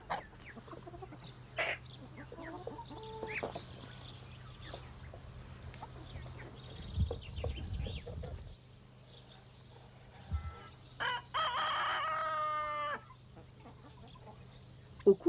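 On a farm, hens cluck and peck in scattered bursts while a rooster lets out one clear crow near the end, with soft rustling and shuffling in between.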